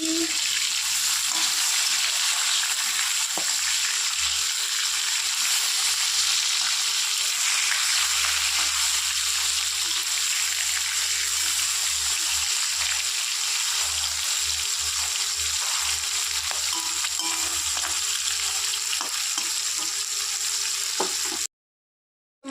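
Fish frying in oil in a pan, a continuous bright hiss and sizzle that holds steady throughout, with faint occasional clatter beneath before it cuts off at the end.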